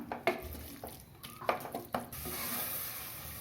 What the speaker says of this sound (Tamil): தயிர் ஊற்றின பிறகு அடி பிடிக்கல அதுவும் ஒரு நிமிஷம் வதங்கட்டும்